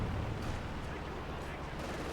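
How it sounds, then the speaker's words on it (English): A Katyusha rocket barrage in Company of Heroes 2 gives a dense, rumbling roar of launches and impacts. It sounds fairly distant and runs continuously for a couple of seconds. "Katyusha barrage didn't really do much here against Finndeed."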